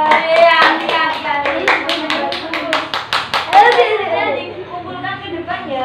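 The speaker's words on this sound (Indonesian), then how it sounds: "tepuk tangan untuk kelompok 3" A class of sixth-grade children claps for a classroom group, with bright rhythmic clapping that is loud and near, mixed with kids' voices and chatter.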